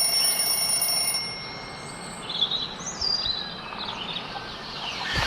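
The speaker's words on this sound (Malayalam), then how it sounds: "അലാറം അടിക്കാനുണ്ട്." Alarm clock ringing in the horror video game Death Park 2: a high, thin electronic ringing and warbling tones sit over a steady hiss throughout, moderately loud with no voices.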